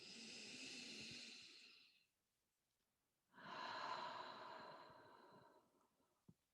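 Forceful breaths during a yoga breathing exercise: a long, strong airy exhale, a brief silence, then a second long breath, ending with a short sharp click.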